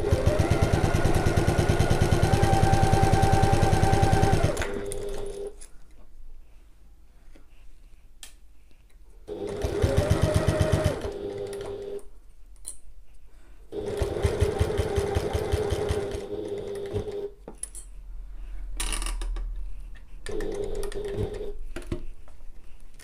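A sewing machine stitches a fabric oval bag at regular stitch length. The loud, close motor chatter comes in several bursts of a few seconds each, separated by quieter pauses, with no voices.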